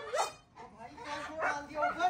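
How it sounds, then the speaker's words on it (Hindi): A husky barks and yips in short, high bursts, several in quick succession, fairly close and moderately loud, with whimpering tones between the barks. "भौंक क्यों रही हो"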